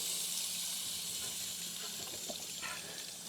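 Tap water running steadily through a water filter, a soft continuous hiss and trickle with no voices.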